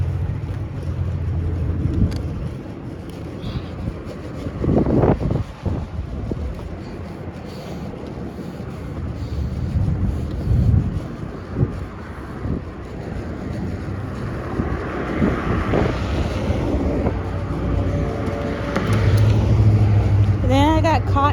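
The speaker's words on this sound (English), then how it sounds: "yeah, it's windy." Wind buffets a body-worn camera's microphone outdoors under stormy skies, a continuous low rumbling roar with gusts that swell and fade, and a voice is heard speaking now and then.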